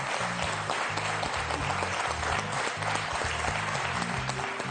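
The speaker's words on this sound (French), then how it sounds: "Très applaudi par toute la salle." Studio audience applauding at the end of a match on a French quiz show, a sustained wash of many hands clapping evenly throughout, with faint music or voices beneath.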